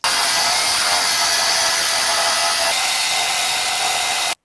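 A HOEGERT cut-off disc on a power tool slices through material in one loud, sustained high-pitched whine that begins abruptly, holds steady for about four seconds with a slight shift partway, and stops sharply.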